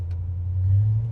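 A 1972 Chevelle engine idling quietly, a smooth low steady rumble heard close by, with no talking.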